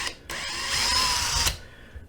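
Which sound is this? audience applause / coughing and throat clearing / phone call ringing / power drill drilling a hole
power drill drilling a hole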